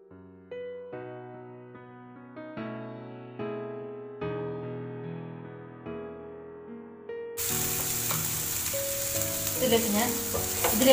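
Cauliflower egg thoran sizzling steadily in a pan after music fades out, with frying hiss and occasional stirring scrapes rising near the end.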